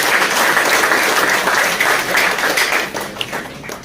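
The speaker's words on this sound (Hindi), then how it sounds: "जोरदार तालियां।" Loud, dense audience applause for participants of the All Kashmir Car Cup, steady and sustained before tapering slightly toward the end.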